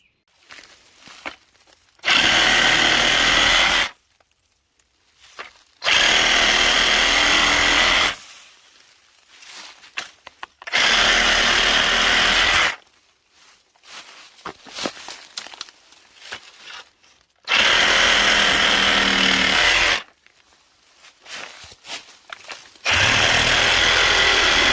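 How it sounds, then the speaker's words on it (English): Reciprocating saw cutting through bamboo canes in a grove, loud harsh buzzing bursts of about two seconds each, five separate cuts separated by pauses filled with rustling and handling noise. "got a better sawzall now"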